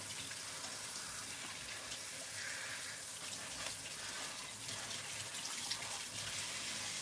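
Tap water running steadily over a thawing frozen lobster, a continuous soft hiss and splatter at constant level, fairly quiet, with no voices.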